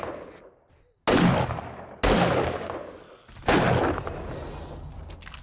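Gunfire in the video game 7 Days to Die, with three loud, sharp shots about a second apart, each leaving a long ringing decay, after a short fading tail.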